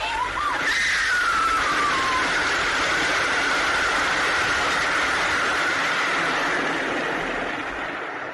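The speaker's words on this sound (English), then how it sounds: "Oh, there's a train coming." Train approaching as a radio drama sound effect, a loud sustained rushing roar with a brief whistle-like tone near the start, holding steady before easing slightly at the end.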